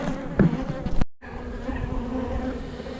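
Honey bees buzzing in and around a hive box, a steady close drone with a brief dropout partway through.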